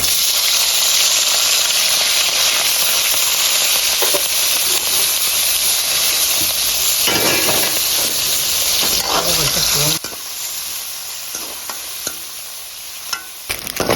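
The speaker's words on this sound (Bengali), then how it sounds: "তেল গরম হয়ে গেছে দিয়ে দিচ্ছি চিংড়ি" Shrimp dropped into hot oil in a pan set off a loud, close, hissing sizzle that roars for about ten seconds, then settles into a quieter crackle with a few sharp pops.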